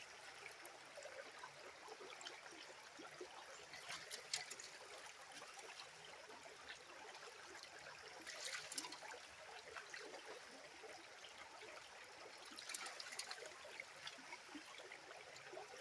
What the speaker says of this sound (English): I'm going to have to make a slurry out of this to get it to run through the sluice properly